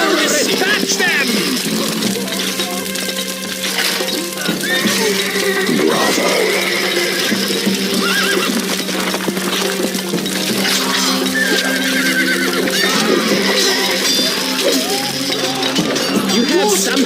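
Horses whinny in a Stronghold Crusader battle scene, several short neighs scattered over a dense game soundscape with clinking metal and background music, while voices speak over the mix.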